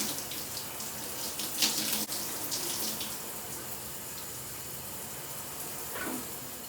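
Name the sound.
water running while rinsing out hair color mask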